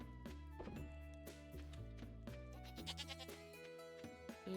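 Sheep in the farming video game Stardew Valley give a few bleats over steady background game music, faint and brief.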